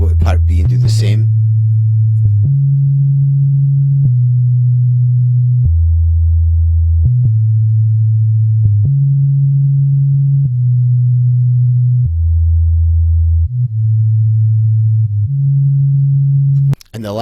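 A deep, steady synthesizer sub bass tone steps between low pitches in even sustained notes, with faint clicks at each change and a brief brighter burst at the start.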